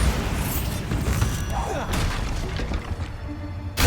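Bombarda blast from Hogwarts Legacy, a spell explosion with crashing, shattering debris and thuds layered over other spell effects, loud and busy throughout, with a voice calling out over it.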